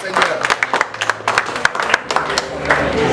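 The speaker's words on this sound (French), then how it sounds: "Et applaudis pour le Seigneur." At a church-style twenty-fifth wedding anniversary celebration, a congregation claps sharply and rhythmically in praise, with voices speaking and calling out over the hands.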